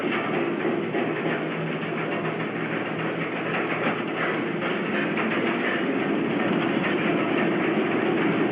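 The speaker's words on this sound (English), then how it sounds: "When the train gets to the top of the hill, the locomotive on this will likely bounce." Mine train ride in a ghost town rolling steadily along its rails, a continuous loud rumble and clatter from start to finish with no voices.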